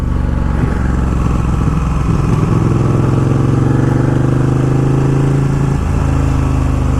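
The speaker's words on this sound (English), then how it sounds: "I'm having too much fun on this bike." A 200hp superbike motorcycle engine runs loud and steady while riding, its harmonic drone rising in pitch mid-ride, then dropping back, with continuous wind and road roar and no talk.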